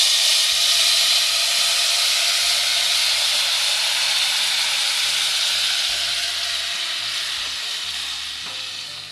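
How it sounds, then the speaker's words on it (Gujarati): Hot water poured slowly into light golden-brown roasted broken wheat (fada) in a pressure cooker, giving a loud, steady hiss of steam and sizzling that fades slightly toward the end, with no talking. "ગરમ થયેલા પાણીને એકદમ ધીમે ધીમે ફેલાવતા જઈ અને શેકેલા ફાડામાં ઉમેરી દઈશું."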